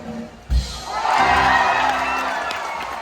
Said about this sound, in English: give them a little round of applause, a little encouragement